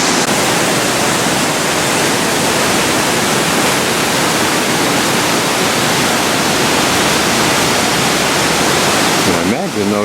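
Loud, steady rushing river water roars continuously beside a wall in Lucerne, a dense wash of white noise.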